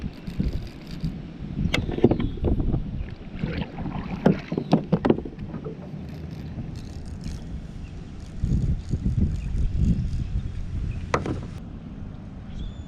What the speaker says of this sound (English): It's supposed to be windy out, but that ain't really bothering me much.